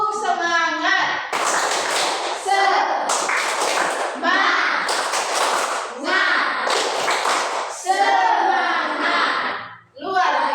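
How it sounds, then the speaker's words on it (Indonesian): A group, including children, claps a short rhythmic spirit cheer in bursts of quick claps, with chanted voices between and over the clapping, close and loud in a classroom setting. "Tepuk semangat."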